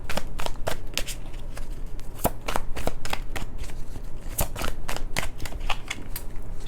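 Tarot cards are shuffled close up in a rapid series of crisp riffling snaps, steady and repeated throughout, with no talking.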